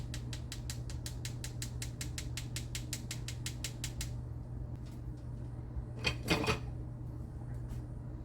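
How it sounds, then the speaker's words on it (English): Unsweetened cocoa worked through a hand-cranked sifter gives a rapid, even run of small ratcheting clicks close by, which stops after about four seconds, followed by a brief clatter. "I always do mine through a sifter"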